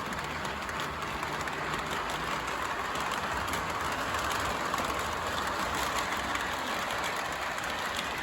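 An O gauge model locomotive pulls a short Missouri Pacific train around the track, making a steady close rolling rumble and rattle that runs unbroken throughout with no pauses.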